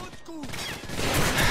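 Pistol shots crack out in Call of Duty 4: Modern Warfare on Veteran difficulty, a short burst of several sharp reports with rising in-game clatter behind them.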